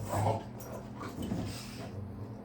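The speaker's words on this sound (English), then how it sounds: "my dogs keep wrestling" Pet dogs tussle and play indoors, giving off soft grunts, whimpers and quick breathy panting, low and muffled under a steady hum from a running space heater.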